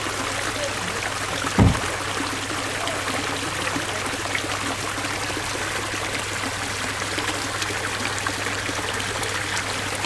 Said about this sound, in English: I just want to listen to the water.